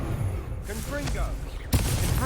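Spell explosions crack out in a Harry Potter video game as the Confringo fire curse is cast, a sharp blast landing near the end over a busy bed of combat effects and brief voices.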